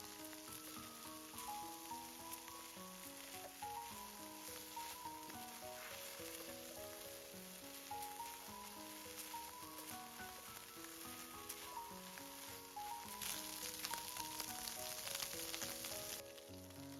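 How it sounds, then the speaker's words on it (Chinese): Beef sizzles steadily as it is tossed back into a hot pan and stir-fried, a continuous crackling hiss that grows slightly louder near the end, with melodic background music playing throughout. "把牛肉倒回鍋裡，翻炒混合均勻。"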